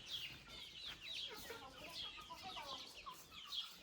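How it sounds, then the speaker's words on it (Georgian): Chickens cluck continuously at moderate distance, several birds overlapping in a busy farmyard chatter with no one speaking. "იქით მეორე მხარეს დიდი ქათმები არიან."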